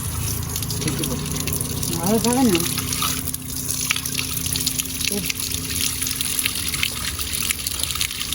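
Water runs at a temple in Jaffna while people wash their feet, a steady trickling flow with people talking over it and a bird-like chirp briefly heard.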